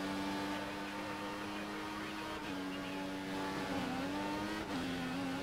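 Race car engine during a video game race at Shanghai, a sustained droning tone that shifts pitch slightly with throttle changes, fairly faint and continuous.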